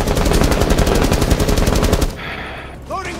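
Automatic gunfire in the shooter game Rainbow Six Siege on the Hereford map: a loud, rapid, evenly spaced burst lasting about two seconds, then cutting off into quieter game ambience.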